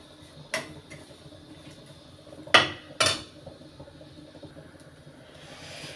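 A spoon stirs whole cardamom, cloves and fennel in a pan for chicken curry, giving a few sharp metallic scrapes and clinks against a quiet kitchen background, with two louder knocks close together midway.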